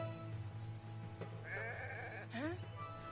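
Sheep in the game Renowned Explorers bleat in a couple of wavering calls, the second louder and higher, over a steady background music hum.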